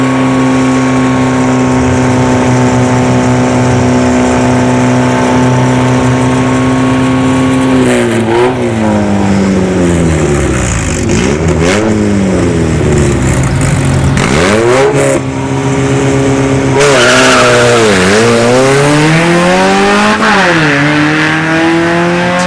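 Two front-wheel-drive drag cars, an Acura Integra and a Pontiac Grand Am, staging and launching at a dragstrip test-and-tune night: loud close engines rise through repeated revving sweeps and gear changes, then roar off hard toward the end.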